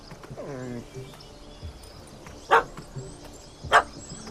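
A dog barks twice at a cat up a tree in The Witcher 3, two short sharp yaps spaced about a second apart, following a brief whining tone, with faint birdsong behind.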